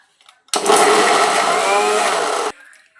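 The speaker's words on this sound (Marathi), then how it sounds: "एवढं मिक्स करून मिक्सरला लावून घेऊया।" A mixer grinder whirs loudly for about two seconds, blending chopped onion with red chilli powder, salt, coriander powder and garlic cloves into chutney; a steady close motor roar that starts and stops abruptly.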